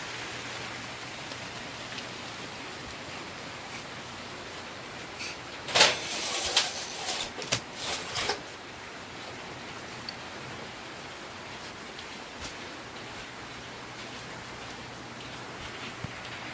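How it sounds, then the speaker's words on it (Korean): Heavy rain falls steadily in a hiss, with water dripping from a leaking ceiling indoors; a brief louder burst of splashing or rattling stands out midway. "비가 엄청 오네요 그래 문 잠그라고 그랬는데 어. 어, 빗방울이 뚝뚝 떨어져요"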